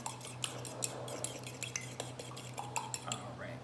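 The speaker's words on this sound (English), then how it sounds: "I'm just gonna mix it in. Mix it as best as you can." A spoon stirs mug cake batter, mixed into cooled honey and butter in a mug, with quick, repeated clinks of metal against ceramic in a steady rhythm, close and soft over a low hum.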